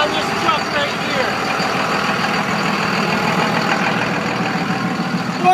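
A lifted regular-cab Cummins diesel truck with an aftermarket exhaust tip idles steadily nearby, a continuous low rumble with a faint whine on top and no voices.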